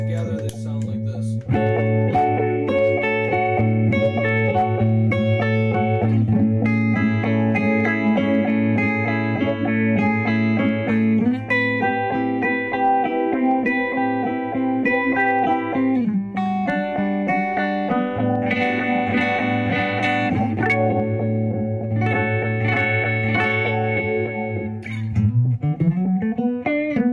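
Guitar through a modulation effects pedal in free mode, a slow sweep combined with a faster pulse: sustained chords and melodic notes wobble and throb continuously, loud and close, with no talking.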